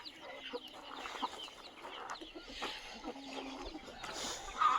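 Free-range desi village chickens cluck and call in a mixed flock, with young chicks among them, a steady scattered chatter at moderate distance and no talk.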